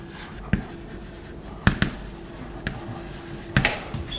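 Chalk or marker writing on a board during a physics lecture, with a few sharp taps and short strokes spaced apart against a quiet room hum, no talk.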